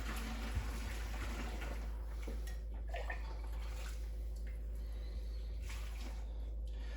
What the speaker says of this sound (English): I'm taking a 4-cup measuring cup to ladle it out faster